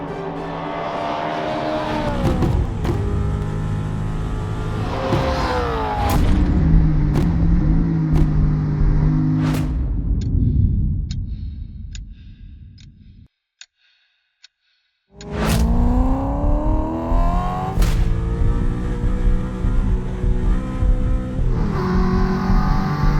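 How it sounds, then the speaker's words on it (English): A BMW E92 M3 race car at a Gridlife track event roars through repeated revving climbs and gear shifts, loud and close, then falls silent briefly before the engine roars back at full volume. "I'm excited to bring you guys my new project, an E92 M3 race car."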